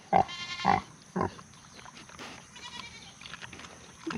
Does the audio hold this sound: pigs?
yes